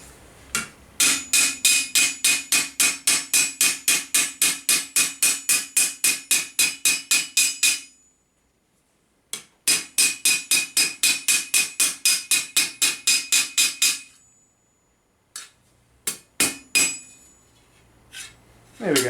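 A hammer taps down the edge of a medieval armour plate in two long runs of rapid, evenly spaced metallic strikes, bright and ringing, separated by a short pause and followed by a few scattered knocks and handling clatter.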